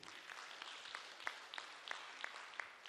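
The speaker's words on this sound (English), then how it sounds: "And a round of applause to everyone who made inputs today." Town hall audience giving a round of applause, scattered hand claps from a smallish crowd, faint and somewhat distant, with a few sharper individual claps standing out.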